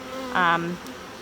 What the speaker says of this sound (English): I'm looking at my bees as they.